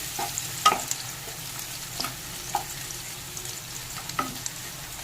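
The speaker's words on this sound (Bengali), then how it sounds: "এবার পেঁয়াজটা একটু ভেজে নেব।" Chopped onion fries in hot oil with a soft, steady sizzle while a utensil stirs it, giving irregular scraping clicks and taps against the pan.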